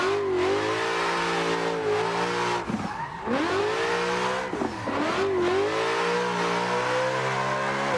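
A drifting car in the Assetto Corsa racing game, its engine revving hard and steadily with brief dips as the revs drop and climb again, loud and continuous with tyre squeal and no talk.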